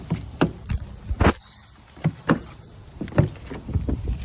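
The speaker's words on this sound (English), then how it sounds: "And that door is locking" Door lock actuators on a 2006 Cadillac STS, a series of sharp mechanical clunks and clicks at uneven intervals, close and fairly loud against quiet background.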